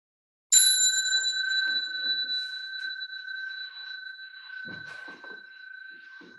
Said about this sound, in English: when Fee rings the bell, we'll bow to each other